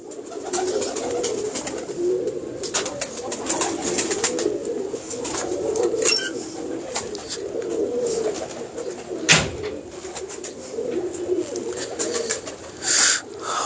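Red-eyed pigeons coo repeatedly in soft, throaty bursts close by, with bird calls and a few sharp noises scattered throughout.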